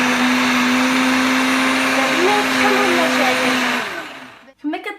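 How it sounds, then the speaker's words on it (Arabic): An electric blender grinds a salted soft cheese mixture with a little added water, a loud, steady whine that holds for several seconds, then winds down and stops, followed by brief clatter. "وغنطحنوه"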